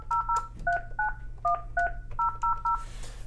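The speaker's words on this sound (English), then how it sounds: "So we go ahead and dial the example number here." A Yealink T27G desk phone beeps out a rapid string of about ten dual-tone dialing keypresses, crisp and evenly spaced over a low steady hum.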